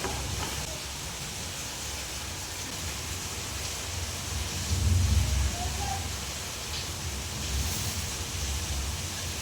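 Heavy rain with strong wind pours down outdoors, a broad steady roar that swells briefly midway, with a voice faint underneath.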